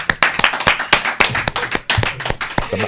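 A small podcast studio audience claps in quick, distinct hand claps at close range, irregular and sharp, with faint voices underneath.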